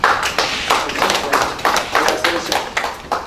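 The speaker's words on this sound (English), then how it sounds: "can we clap for you?" Audience clapping at a business opportunity expo: a rhythmic burst of claps and taps from a crowd, loud and close, with voices audible beneath the rhythm.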